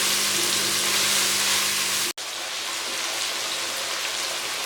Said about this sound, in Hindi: अदरक लहसुन के पेस्ट को भी मैं मसालों के साथ थोड़ा सा भून लूँगी